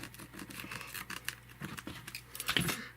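Scissors cut through reverse duct tape in a few quick close snips, with faint rustling of the tape between cuts.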